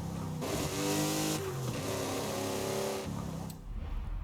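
Morgan car engine accelerating in the Forza Horizon 5 racing game, heard from the cockpit as a loud rising rev that climbs through gear changes, then drops off near the end.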